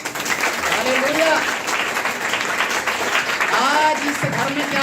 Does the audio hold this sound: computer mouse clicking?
no